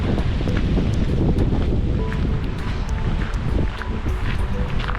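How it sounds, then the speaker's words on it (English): Loud, steady rushing of spraying water, broadband and continuous for about five seconds with no voices, likely outdoors at Sognsvann lake. "here's the water spraying. Just gonna wait until we finish it. It's a bit loud."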